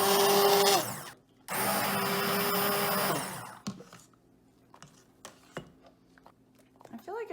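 An immersion blender whirs loudly through peach butter in two bursts of steady high-pitched motor drone separated by a short pause, followed by clinks and handling noises as a person speaks.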